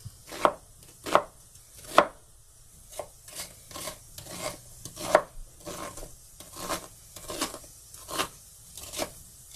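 Onions being coarsely chopped with a knife on a board in a home kitchen while a shrimp bowl is prepared; crisp, close, irregular chops, sharp at first and then lighter and quicker, with no talking.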